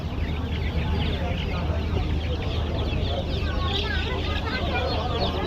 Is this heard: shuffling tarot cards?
no